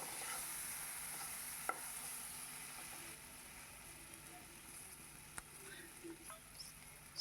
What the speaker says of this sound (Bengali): ভালো করে নেড়ে চেড়ে আলুটাকে আমি ভেজে নেব।